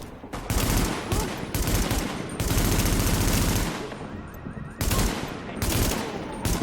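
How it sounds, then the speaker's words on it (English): Small arms gunfire in Tom Clancy's The Division, heavy automatic bursts that are loud and close, cut by short pauses and running in long, dense stretches across the whole clip. "Small arms fire!"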